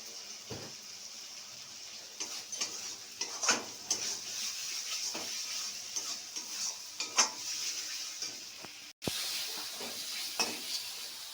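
Spice paste with chilli powder stirred and fried for a small kachki fish curry, giving a soft continuous sizzle broken by repeated scraping stirs and clinks of a utensil against the pan, with one brief dropout near the end.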